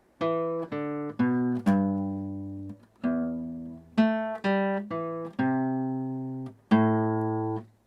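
A plucked acoustic guitar plays a steady sequence of single notes, each ringing briefly before the next, moving through a scale pattern with no voices.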